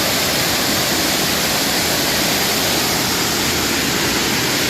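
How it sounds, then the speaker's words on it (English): Shawnee waterfall at Ricketts Glen State Park roars as a loud, continuous broadband rush of falling water on a rocky hiking trail, steady and close with no pauses. "This is the Shawnee waterfall."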